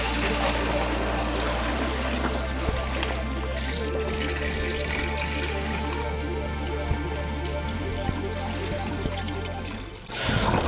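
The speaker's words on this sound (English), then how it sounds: "So let's dump off this water" Water dumped out of a bucket after a sand trap test, a continuous pouring and splashing rush that runs steadily for about ten seconds before stopping abruptly.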